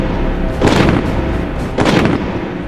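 An M16 rifle fires two separate loud reports about a second apart over a steady background noise, each shot sharp and booming with no voices.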